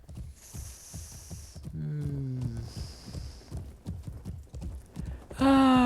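Rhythmic hoofbeats of a horse ridden through a camp in a fantasy video game, steady clip-clop under tonal game sounds, with a sharp whinny-like tonal burst at the end.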